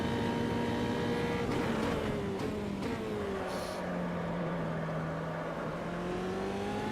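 An F3 race car engine at the Red Bull Ring in a racing video game drones steadily and loudly throughout, its pitch dipping through gear changes and then slowly climbing again.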